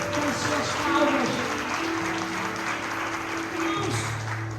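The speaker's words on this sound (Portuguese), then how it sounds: "Celebra o Senhor bem forte com as suas palmas." Church congregation clapping loudly in praise, a dense wash of applause running throughout beneath a voice and sustained musical tones.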